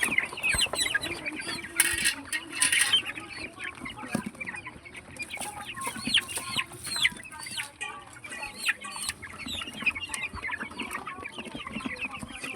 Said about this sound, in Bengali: মুরগিকে খাবার দিচ্ছি, এখন খাবার খাবে ওরা